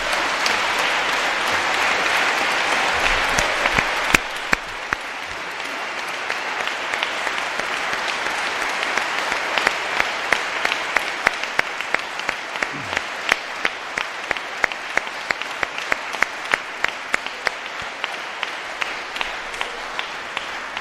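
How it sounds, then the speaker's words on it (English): A live audience applauds Katharine Hayhoe after her talk on how to talk about climate change, with dense sustained clapping that thins into scattered individual claps toward the end. "I think a round of applause for Katharine would be..."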